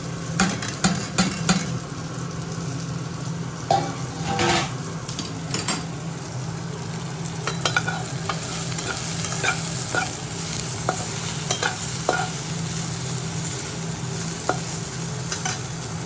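Mung dal with fish head being stirred and fried in a pan, a steady sizzle with repeated scraping clinks of the spoon against the pan throughout.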